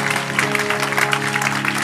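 Church congregation clapping loudly in a dense, steady wave of applause, with a sustained musical tone and voices underneath.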